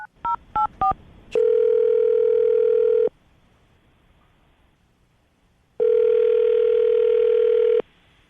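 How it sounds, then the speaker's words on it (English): Rapid touch-tone dialing beeps followed by two long steady ringback tones separated by a silent pause, from a telephone call placed live on a radio show; clear and close with no talking. "I'm going to dial the phone number right now, see if we can get him on the phone"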